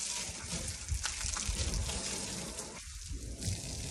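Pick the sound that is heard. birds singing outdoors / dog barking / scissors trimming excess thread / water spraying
water spraying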